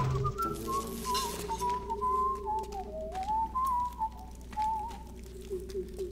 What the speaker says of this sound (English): This guy whistling is starting to piss me off.